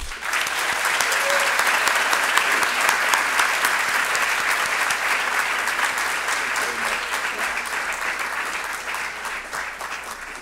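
A crowd applauds steadily as speakers are welcomed to the stage at a Georgetown University politics forum, a dense, sustained clapping that holds loud for about ten seconds before easing slightly.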